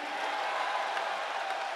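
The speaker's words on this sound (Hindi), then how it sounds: "ताली बजाओ, सांस लेना है।" Audience at a Hindi poetry recital in Raipur clapping, a dense, continuous patter of hands filling the hall with a faint crowd murmur beneath.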